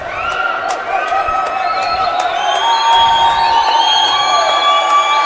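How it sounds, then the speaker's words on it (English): A loud high school boys basketball crowd cheers and shouts steadily in a gym, with a few sharp squeaks or bangs on top and voices mixed throughout. "You can hear the crowd"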